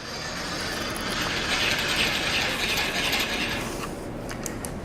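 A milling machine table cranked into position, giving a continuous close ratcheting, gear-like mechanical clatter that runs steadily for several seconds with no voices.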